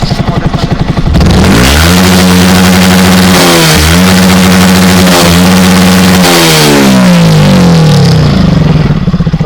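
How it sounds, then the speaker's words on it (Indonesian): A Yamaha WR 155 motorcycle fitted with a 3Tech Ronin Musashi exhaust revs loudly up close, the engine climbing and holding high with a couple of dips before falling back toward a rough idle. "Itu adalah suara-suara dari motor gue ya."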